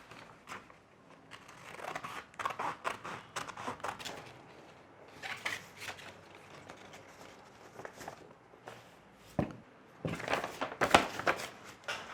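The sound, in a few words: scissors cutting out a sanitary pad shape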